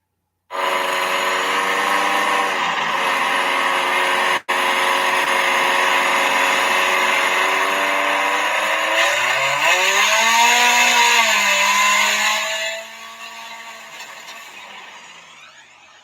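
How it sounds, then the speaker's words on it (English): A race car engine held at high revs, bouncing off the rev limiter in a loud steady drone with a brief cut, rising pitch, then dropping away to a quieter idle. "Did y'all hear like breaking up, like just going off the rev limiter, bouncing off the rev limiter?"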